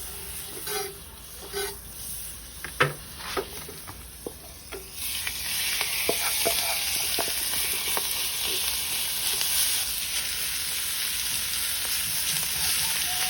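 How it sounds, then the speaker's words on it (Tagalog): Banana heart sisig hits a hot sizzling plate with butter. A few light clinks come first, then a loud, close, sustained hiss of sizzling fills the rest. "ilagay rin natin siya sa sizzling plate na may kasamang butter"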